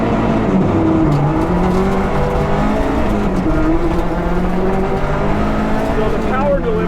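A Subaru R4 rally car drives hard: a loud engine whose pitch climbs and falls through the gears, with continuous road and tire noise heard close up from inside the car.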